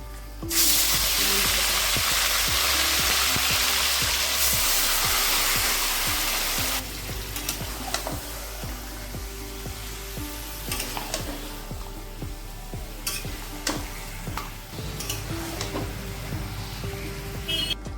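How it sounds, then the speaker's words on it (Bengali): Whole cloves, cardamom, cinnamon and peppercorns hit hot oil for a chicken biryani, bursting into a loud hissing sizzle that eases after several seconds into a steadier crackle with occasional clinks. "ওই তেলে আমি ফোড়নের জন্য লবঙ্গ, এলাচ আর দারচিনি আর গোলমরিচ নিয়েছি। এটা দিয়ে দেবো।"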